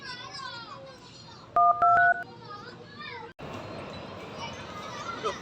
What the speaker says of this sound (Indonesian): Aduh, siapa yang nelpon nih?